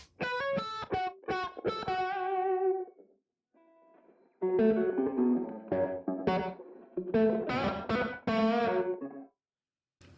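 Bright, sustained guitar notes with a distorted edge ring out in phrases, each tail washing into a lingering reverb before the next burst of playing.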